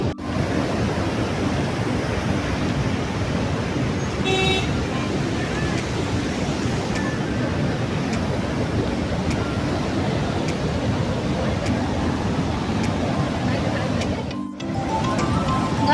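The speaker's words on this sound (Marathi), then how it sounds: "गंगापूर धबधबा सोमेश्वर धबधबा" Continuous roaring rush of a waterfall swollen with rain, loud and steady throughout, with a brief dip near the end.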